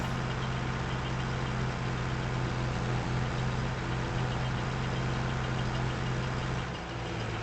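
A tractor engine idles in the farming game Farming Simulator 25, with a steady low rumbling drone that holds evenly near and moderately loud throughout, with no talk.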